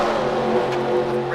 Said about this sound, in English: We've already had a pack of race cars on track here today